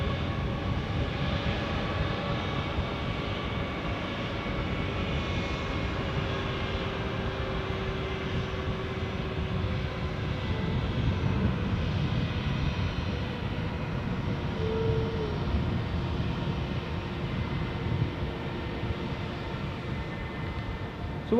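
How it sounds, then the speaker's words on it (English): Passenger jet taking off from Dusseldorf airport, bound for Corfu, a steady distant engine roar holding for twenty seconds with a faint rising tone, no voices. "So this plane off to Corfu."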